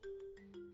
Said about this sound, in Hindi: या प्रेम पापा का फोन